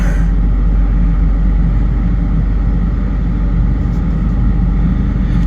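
A 2006 Chevy Uplander wheelchair van, freshly fitted with new O2 sensors, spark plugs, oil and a front main seal, idles with a steady, deep, close engine rumble that stays level and unbroken.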